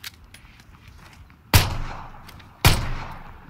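Two sharp, loud gunshots in the video game PUBG ring out about a second apart, each with a quick reverberant tail, over faint background noise.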